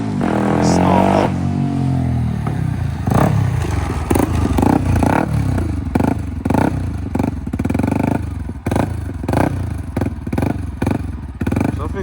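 Yamaha WR125R motorcycle engine running loud and close with a loose-sounding clatter, rev rising at the start then settling into an uneven idle broken by repeated sharp knocks and pops.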